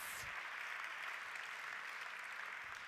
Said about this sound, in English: Let's give them another round of applause to les hôtels très particuliers and our candidates.